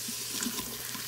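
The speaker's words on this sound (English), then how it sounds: "I have added 2 cups of water." Water pours from a tap into a cooking pot of black-eyed peas, a brief steady splashing rush heard close and alone.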